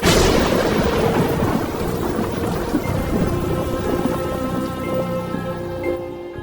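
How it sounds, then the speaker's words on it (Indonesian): Heavy rain pours steadily while thunder rumbles low and continuous underneath, a dense, loud storm wash with no voices, the roar fading slightly toward the end. "pada eon ini jugalah hujan pertama kali turun di bumi"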